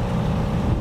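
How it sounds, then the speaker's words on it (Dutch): A sailboat runs under its engine into a harbour on a warm, calm day, giving a steady low motor drone with water noise, close and continuous with no talk. "Dus nu motoren we de haven in."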